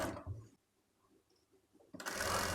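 Sewing machine stitching a fabric sleeve for a baby's party-wear top, with a loud whirring run at the start, a near-silent pause, then the motor starting again at full speed.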